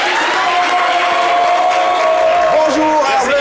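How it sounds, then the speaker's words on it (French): A studio audience applauds and cheers a guest on a French-language talk show, a loud, dense wash of clapping and crowd noise close by, sustained throughout with a faint voice mixed in. "Merci de l'applaudir bien fort, s'il vous plaît."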